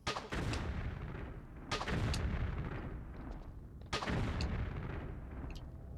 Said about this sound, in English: Maybe I should use the explosive ammo.